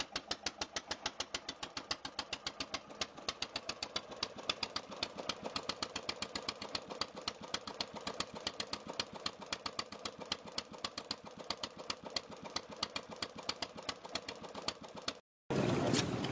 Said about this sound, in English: the Deutz MAH 611 remains a classic example of early efficient